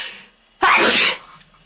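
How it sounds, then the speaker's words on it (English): A single loud, sharp sneeze bursts out after a short quiet pause, then fades quickly. "I have to sneeze."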